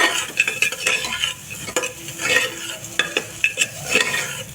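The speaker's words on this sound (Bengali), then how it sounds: "লবণ এগুলো দিয়ে ভালো করে মশলাটা কষে নিতে হবে" Spice masala with salt is stirred and fried in a pan for egg tarka, a busy close sizzle under repeated scraping and clinking of a spoon against the pan in an uneven rhythm, with no voices.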